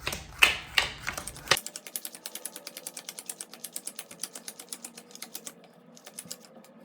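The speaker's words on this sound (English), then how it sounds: "Now I'm going to deal the entire deck into 4 piles." Cards flick down one after another in a quick, even rhythm, dozens of soft close snaps after a few louder slaps at the start.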